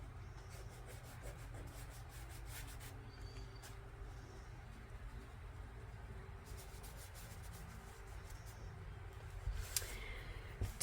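Fingers rubbing paint onto an art journal page, a soft, steady friction texture that runs continuously at close range over a low background hum, with a slightly louder scuff near the end.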